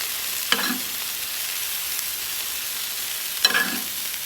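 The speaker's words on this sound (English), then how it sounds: "So now it starts sizzling on the side." Steady, close sizzling hiss of garlic butter frying over a steak fillet on a hot griddle, with two brief metallic clinks breaking in; no talking.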